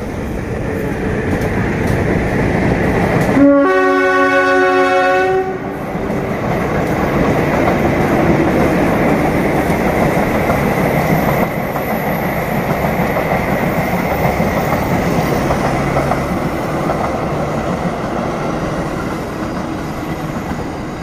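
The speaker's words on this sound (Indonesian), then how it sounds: "kita lihat dulu kereta api yang lewat." A train on the Jakarta–Bandung high-speed rail line rumbles past close by with steady clattering and roaring, a loud horn blast sounding early before the rolling noise continues.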